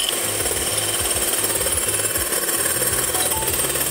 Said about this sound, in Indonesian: Lalu kocok putih telur hingga setengah mengembang.